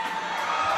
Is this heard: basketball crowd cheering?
yes